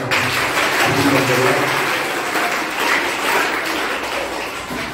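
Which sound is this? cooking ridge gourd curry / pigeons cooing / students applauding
students applauding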